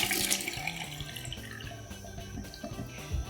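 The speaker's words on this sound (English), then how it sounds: "you're rinsing a knife" Tap water runs at a sink while a knife is rinsed under it, a close, splashing, uneven flow with drips and light clinks, fairly quiet and without speech.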